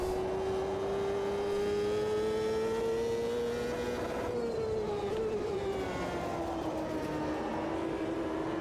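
Reynard 98i Ford open-wheel race car at Watkins Glen in Automobilista 2, engine screaming at high revs with a steady whine that dips around the midpoint as it shifts, then climbs again, loud and continuous with no talking.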